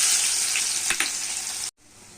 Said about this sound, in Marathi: कांदा टाकूया